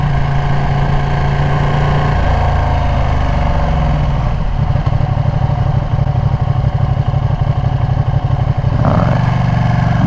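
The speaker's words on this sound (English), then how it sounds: "Oh my gosh, look at that auto blipper. Or not look, but listen to it." Ducati motorcycle engine with an auto blipper, a steady loud mid-pitched idle and rumble throughout with a quick rev blip near the end, close and continuous with no talk.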